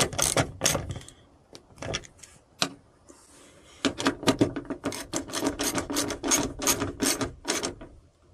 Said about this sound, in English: Let's finish tightening up the terminals here